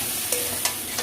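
Spice paste with tomato for a red chicken curry sizzles steadily in a pan, with three brief scraping stirs at regular intervals over the constant frying hiss.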